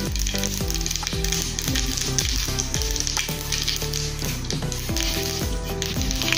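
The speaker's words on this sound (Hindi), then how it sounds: "अभी इसमें हम राई डालेंगे। तेल गर्म हो गया है। काली वाली तिल है वो भी इसमें डालेंगे।" Mustard seeds and black sesame seeds crackle and sizzle in hot oil for a mung dal dhokla tempering, a loud continuous frying hiss dense with sharp popping seeds throughout, no voices.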